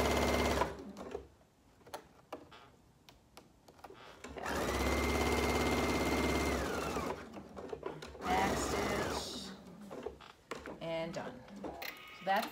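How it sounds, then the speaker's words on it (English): A sewing machine stitches across the banding of a fabric market bag, running in a steady loud burst of several seconds. Short stop-start runs are heard around it while someone talks. "On the outside edge of that banding. And I will sew across."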